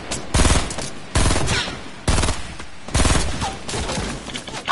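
Video game gunfire comes in several loud bursts of rapid shots separated by brief pauses, close and forceful with a sharp, clipped quality.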